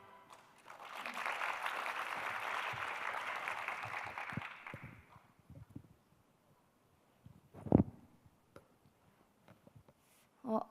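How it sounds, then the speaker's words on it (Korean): Applause from a conference audience at a Korea–China youth dialogue forum, a broad wash of clapping that swells and holds for about four seconds, then fades into quiet room noise with a few faint knocks. "다시 한번 크게 박수로서 맞이하도록 하겠습니다."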